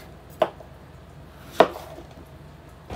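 Okra is chopped on a board with two sharp, separate knife strikes about a second apart, close and crisp against a quiet background.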